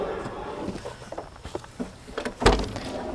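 Rear barn doors on a Toyota Land Cruiser 105 overlanding camp rig open with a series of clunks and latch knocks, including a louder thud near the end, heard close up without talk.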